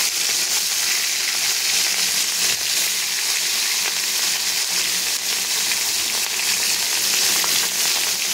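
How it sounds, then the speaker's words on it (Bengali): Fish fries in hot mustard oil in a wok, giving a loud, continuous, crackling sizzle that stays dense and even from start to finish, with no talking. "এবার মাছটাকে এখানে দিয়ে আমি হালকা করে মাছটা ভেজে নেব"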